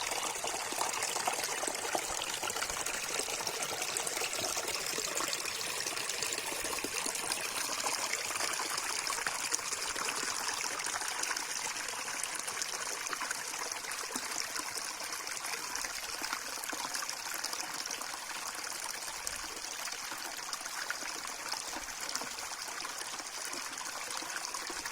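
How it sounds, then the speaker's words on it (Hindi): A small river flowing behind a park in the hills of the Lansdown range near Duggada, Uttarakhand, rushes in a constant bright, hissing babble, steady and fairly loud throughout, with no voices. "पार्क के जो पीछे से है एक सुंदर सी नदी बहती है, काफ़ी छोटी नदी है लेकिन उसकी आवाज़ आपको एक अलग ही अनुभव कराएगी।"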